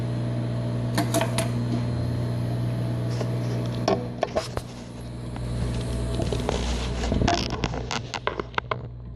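An industrial sewing machine stitches a half-inch back stitch beside a welt, its steady motor hum running underneath with scattered clicks and bursts of stitching activity, close and moderately loud.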